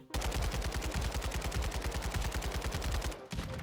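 Rapid automatic gunfire with heavy recoil in Call of Duty Modern Warfare 2, a loud, steady stream of evenly spaced shots lasting several seconds before a brief pause and a short resumption.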